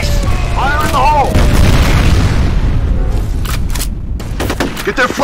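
Grenade blasts and gunfire in the online shooter FEAR Combat, loud booming explosions and rattling bursts layered densely over one another, with brief tonal game effects near the start.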